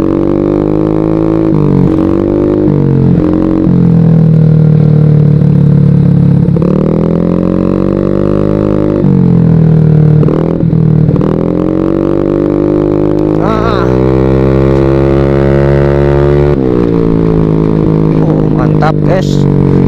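A carbureted Honda Beat scooter fitted with 8-gram rollers accelerates on a test ride over a gravelly road, its engine note rising and falling in steady pulls, loud and close throughout.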